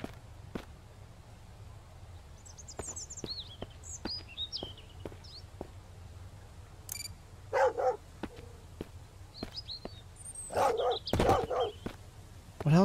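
Dog barking in the Mist Survival video game, a series of sharp scattered barks spread over several seconds, some clustered and louder near the end, with faint bird chirps in the background and no talk.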